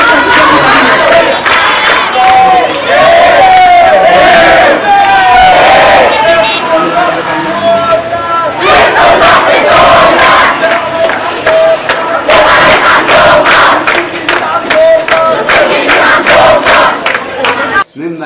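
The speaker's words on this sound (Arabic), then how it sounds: "بدأوا يرددوا بعض الهتافات" Students at a school in Abu al-Numros, Egypt, chanting slogans against the army, a loud rhythmic crowd of voices shouting in unison continuously, with overlapping cries and babble.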